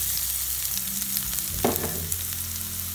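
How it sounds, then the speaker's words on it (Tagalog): Garlic sautés in a pan after onions for pork giniling picadillo, giving a steady close sizzle with one brief stirring scrape near the middle and no talking. "Pagkatapos po ng ating sibuyas, sunutin natin yung ating bawang."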